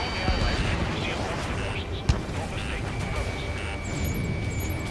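Dense battle din from Ace Combat 7, with a steady roar of gunfire, rumbling explosions and jet noise, plus a sharp blast near the middle, under a layer of voices.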